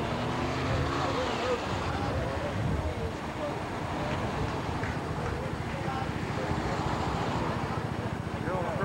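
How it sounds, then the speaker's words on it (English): A helicopter flies overhead at Fort Lauderdale beach in 1982, a steady broad rotor and engine rumble running throughout, with people talking over it. "I hear a helicopter."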